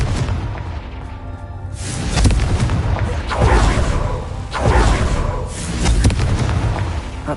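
Confringo spell blasts in Hogwarts Legacy, a run of loud booming explosions repeating every second or so over a dense roaring rumble of game action.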